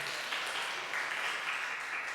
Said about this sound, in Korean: 지나가는 일이지만 박수는 쳐요